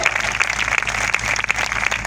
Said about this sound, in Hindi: Clap for both of them.